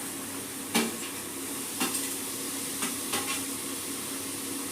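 Tomatoes are stirred in a hot pan over a steady quiet sizzle, with a few sharp spoon knocks against the pan spaced a second or so apart.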